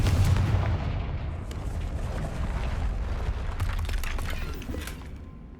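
A Confringo fire spell blasts a wall in Hogwarts Legacy, a heavy roaring burst that rolls on as a dense rumbling crumble of debris for several seconds before tapering off.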